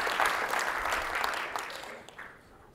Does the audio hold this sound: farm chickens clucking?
no